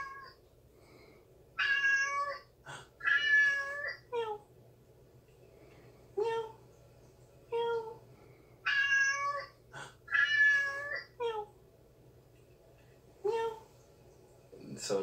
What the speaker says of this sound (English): this is cats meowing